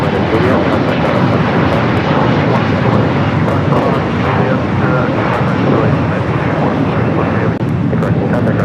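Loud, continuous jet roar from an Emirates Airbus A380 on short final approach to runway 24 at Los Angeles International Airport, broadband engine noise filling the whole stretch with no break.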